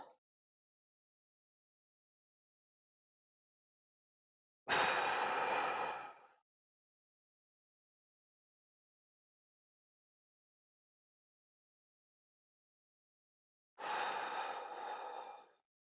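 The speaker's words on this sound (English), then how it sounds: "I'm gonna inhale through the nose." Two slow, deep diaphragmatic breaths drawn in through the nose, each a soft airy rush lasting under two seconds, separated by long silence, close and quiet.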